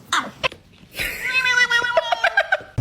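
A cat meows several times, with sharp short cries near the start followed by a longer drawn-out wail and a run of quick close meows toward the end.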